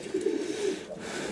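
Racing pigeons in a Romanian loft cooing softly, a short, low, throaty burble held close against a noisy background, brief and without talk.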